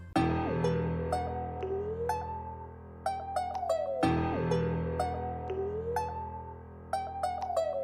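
Mellow Rhodes electric piano chords with gliding pitch slides, layered over a steady accompaniment, playing continuously and fairly loud.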